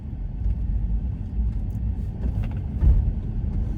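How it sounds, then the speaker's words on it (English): Steady low rumble of road traffic on a busy Saturday, cars passing continuously nearby with a brief louder swell near the end, no voices. "There's a lot of traffic."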